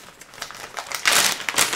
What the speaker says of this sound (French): on le glisse dans un sac plastique